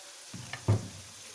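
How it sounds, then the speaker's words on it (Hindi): Almond curry frying in a pan with salt, chili and turmeric, a soft sizzle with a brief stirring scrape, close and moderately quiet. "अब इसे अच्छे से भून लेंगे।"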